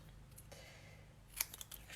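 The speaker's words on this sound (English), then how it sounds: "I'm going to cut the one end in a banner." Scissors snipping paper to cut a banner end for a Stampin' Up! birthday card, a few quiet close crisp cuts clustered near the end, no talk.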